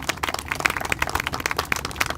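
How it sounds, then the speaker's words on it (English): Applause from an audience at a groundbreaking ceremony, a dense run of scattered claps that stays steady and moderately loud through the whole stretch, with no voices over it. "We can have a round of applause for them."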